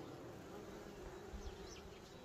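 A bee buzzes faintly and continuously outdoors in a forest setting, its steady drone sitting low under a soft ambient background.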